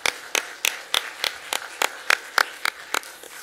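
Congregation in a Korean church clapping after a choir hymn at a New Year's Day Sunday service, about a dozen sharp, evenly spaced claps with a steady rhythm, close and moderately loud.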